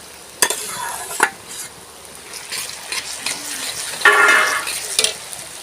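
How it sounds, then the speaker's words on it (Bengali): Onion and garlic paste sizzles in a hot pan while being stirred, with a few sharp scrapes of the spoon and louder bursts of frying. "দিয়ে ভালো করে ভাজতে থাকবো"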